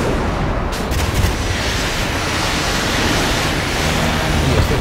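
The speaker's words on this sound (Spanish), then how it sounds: "Vamos a sacar aquí el peso pesado de la artillería." Heavy naval artillery in the game Modern Warships rumbles in a dense, continuous barrage, loud and booming with a few sharper blasts near the start.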